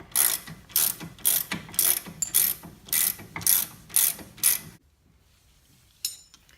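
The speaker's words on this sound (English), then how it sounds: "I'm going to tighten that down next. This is the 18 millimeter again." Ratchet with an 18 mm socket tightening a bolt, about ten quick rhythmic clicking strokes close to the mic, then a pause and one last faint click.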